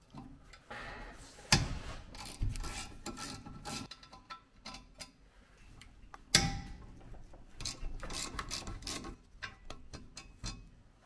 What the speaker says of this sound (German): Dazu gehen wir hier mit einem Ratschenschlüssel drauf und lösen uns die beiden erst einmal.